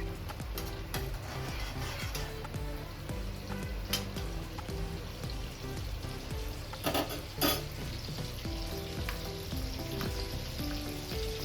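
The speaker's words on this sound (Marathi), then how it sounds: "बटर मेल्ट झालं की आपण याच्यामध्ये आधी टाकूया आलं लसूण पेस्ट" Ginger garlic paste sizzles in melted butter and oil for homemade pav bhaji. It makes a steady, close frying hiss, broken by a few brief stirring clatters, with no voices.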